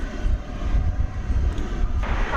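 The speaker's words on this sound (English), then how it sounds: "Volaris coming in from Guadalajara. This will be an Airbus A321 Neo." An Airbus A321neo jet arriving at DFW at night produces a steady low rumbling roar with a faint whine, heard at a distance, alongside some wind buffeting on the microphone.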